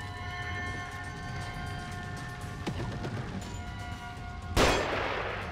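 A single sharp, loud sniper rifle shot in The Evil Within game, fired near the end over a steady rumbling, clanking background of rail-like machinery noise.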